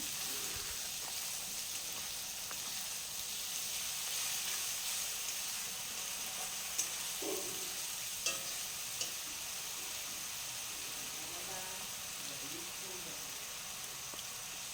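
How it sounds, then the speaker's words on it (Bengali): Ground spice paste stir-fried in a pan with fried onions for a cabbage and fish-head dish, a soft continuous sizzle and hiss with occasional scrapes of stirring, fairly faint and steady throughout. "মশলাটা দিয়ে দিয়ে ভালো করে একটু কষিয়ে নেবো"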